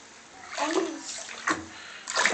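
A young child splashes and sloshes water in a bubble bath, with a few short bursts of splashing close by and an adult talking alongside.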